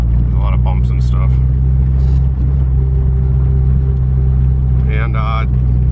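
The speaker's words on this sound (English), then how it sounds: "first test drive pulling out of the parking lot at my shop. This parking lot is not smooth" A Honda Civic fitted with new coilovers rolls across a rough, bumpy parking lot, giving a steady, loud low cabin rumble with brief voices heard now and then over it.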